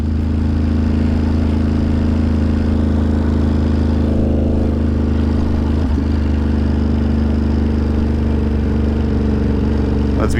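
A Ducati Diavel motorcycle engine rumbles steadily close by, a continuous low droning hum with a slight surge near the middle, heard alone without talk.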